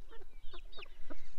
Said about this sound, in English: these are some of our Pekin bantam chickens